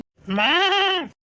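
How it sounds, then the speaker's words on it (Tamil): A single close, loud, drawn-out bleat from a calf, lasting about a second, with a wavering, lamb-like tone. No voices are heard. "பாக்குறதுக்கு ஆளு பல்கா இருக்கு, ஆனா சவுண்ட் என்னமோ ஆட்டுக்குட்டி சவுண்ட் மாதிரில இருக்கு"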